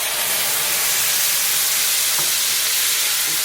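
Vinegar hitting hot rendered pancetta fat in a pan sets off a loud, steady sizzle with spitting crackle, close by and continuous throughout.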